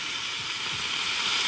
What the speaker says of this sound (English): It's a fire in the rain.